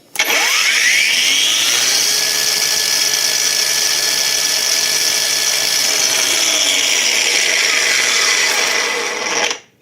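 A Heimerdinger LB184 cordless angle grinder with display runs at its third speed setting, spinning up quickly to a loud, steady high-pitched whine held for about nine seconds before winding down.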